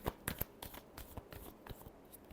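Tarot cards riffle and slap in quick irregular flutters during a final shuffle, soft and close with no voices.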